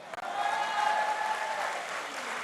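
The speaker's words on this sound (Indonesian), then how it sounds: "Aplaus dulu, beri dulu dong." Applause breaks out from the audience at a Golkar party regional meeting in Jakarta, a sustained wash of clapping from many hands that swells and then eases slightly, with a voice speaking faintly over it.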